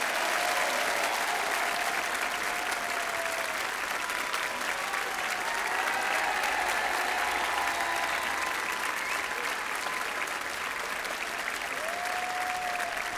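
A TV studio audience at a choir show of 1990s songs gives a singer sustained, loud applause, a dense even roar of clapping with faint whistles or cheers mixed in throughout.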